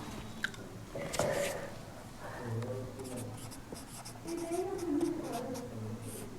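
Pen writing a math answer on paper, a soft, close scratching of strokes running steadily under faint room noise, with brief quiet talk at times.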